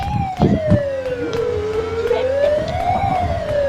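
An ambulance siren in the video game Dude Theft Wars wails in a smooth rising and falling sweep, loud and close, over low rumbling game-engine noise and a few short clicks.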